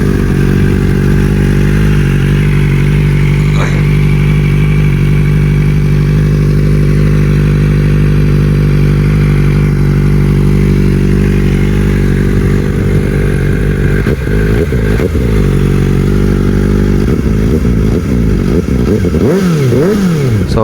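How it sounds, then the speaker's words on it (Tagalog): A Kawasaki ZX-4RR motorcycle fitted with a Yoshimura exhaust idles loud and close with a steady, buzzy drone, then is revved in several rising and falling pulls toward the end. "sound check naman natin yung exhaust natin na Yoshimura"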